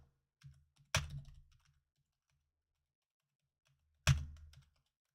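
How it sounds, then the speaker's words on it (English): A computer keyboard taps out a short burst of keystrokes, then a second brief burst after a pause; quiet and close in a still room with no talk. "I'm typing in a poll."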